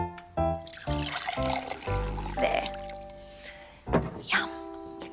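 Water poured into a glass, a steady trickling pour running for several seconds, fairly close, with short spoken lines from one person over it.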